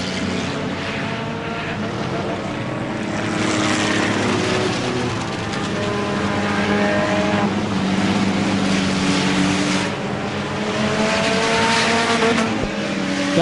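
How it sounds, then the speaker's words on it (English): Enduro race cars circle a short oval at Merrittville, engines rising and falling in overlapping revving passes with rapid tire chatter on the front straight, loud and continuous. "I just laugh at how much those back tires are chattering down the front straightaway"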